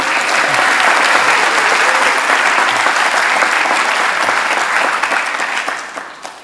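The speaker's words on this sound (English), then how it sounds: "so please give him a round of applause." A large audience at a film festival awards ceremony claps in a full, steady round of applause that holds strong before tapering off near the end.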